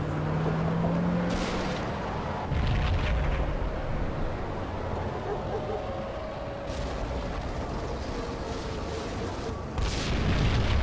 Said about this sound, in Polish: W pobliskim budynku wybuchła kolejna bomba.